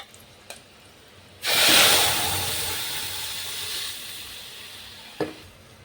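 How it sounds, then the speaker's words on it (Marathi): Garlic and spinach drop into hot oil for a tadka, bursting into a loud sizzle that slowly fades to a steady hiss, with a small clink just before and another near the end. "लसूणला पण छान फ्राय करून घेऊया।"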